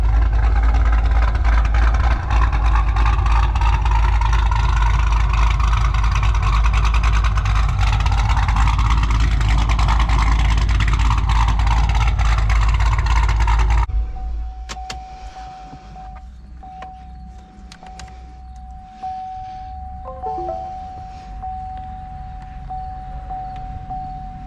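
A car engine idles loudly and close with a deep steady rumble for about fourteen seconds, then drops to a much quieter hum with a faint high tone and a few small clicks.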